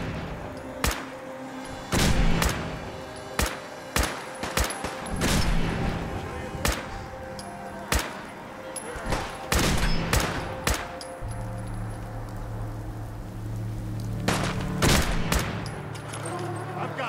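Repeated gunfire in Fallout 4, with bursts of shots and heavy booming impacts spread across the scene at varied loudness, some close and sharp, others duller, over a steady low background hum.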